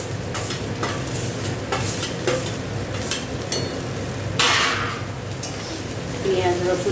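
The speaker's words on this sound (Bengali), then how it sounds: "এবার কাঁচা লঙ্কা দিয়ে দিচ্ছি।" Green chillies go into a pan of frying onion and garlic, producing a continuous close sizzle with stirring scrapes and a sharp burst of spitting midway; a voice speaks briefly over it.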